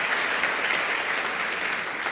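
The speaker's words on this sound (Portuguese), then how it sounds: "Vamos dar um aplauso ao nosso Deus." A congregation applauds during a church service, a steady wash of many hands clapping at once, dense and even throughout, with no voices standing out.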